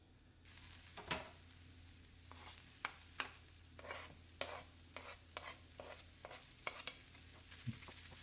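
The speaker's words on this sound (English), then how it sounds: "Get everything in there stirred up." Fried potatoes with pre-cooked salted fish being stirred in a pot, Guyanese style: quiet frying under a series of sharp, evenly spaced spoon scrapes and taps against the pot, close and fairly faint.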